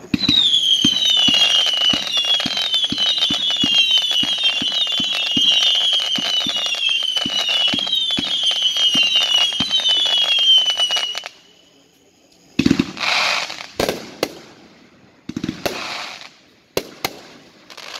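A Cutting Edge Top Secret firework cake fires a rapid string of whistling, crackling bursts with shrill screams for about eleven seconds, then a brief lull before a few loud, scattered booming reports; close, loud, no speech.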